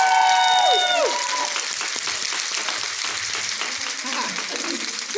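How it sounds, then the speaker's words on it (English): An audience at a summit event applauds in a sustained, close burst of clapping, with loud whoops and cheers at the start that fade as the clapping continues, and a voice talks briefly over it. "Let's cheer for her."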